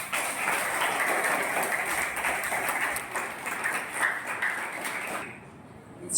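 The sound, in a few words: audience applause for the correspondent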